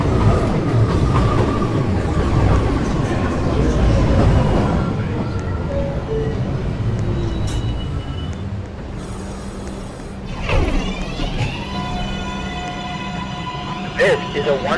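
A New York subway Local 1 train rumbles through a station, with loud rolling wheels and clattering rail joints and later high wheel squeals and tones, while a recorded voice announces over the noise.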